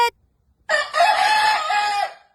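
A loud rooster crows once, close by, in a long strained call after a brief sharp sound and a short pause.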